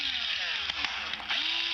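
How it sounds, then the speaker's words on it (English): A battery-powered drill boring a hole through a soda can laid on its side, a loud high motor whine with pitch dips and short catches as the bit bites into the thin metal. "put the can on its side and drill a"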